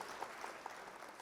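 An awards event audience applauds, steady soft clapping heard faint and distant for a brief moment, with no talk over it.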